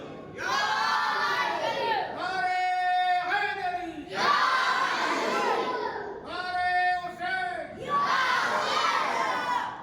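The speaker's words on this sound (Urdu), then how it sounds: "نعرے لگا رہے ہیں تو ایسے آواز دیجئے کربلا تک جائے" A large crowd at a Muharram gathering for Imam Hussain chants religious slogans loudly, alternating full-throated group shouts with a sustained leading call in a repeating call-and-response rhythm.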